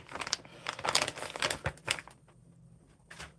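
A plastic bag full of car parts for a drift car build is handled, giving a run of close, sharp crinkles and rustles that stop briefly and then return with one last crackle.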